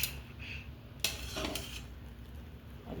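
Cooked rigma is moved into another pot, with metal utensils clinking and scraping against the cookware in a few close, sharp knocks.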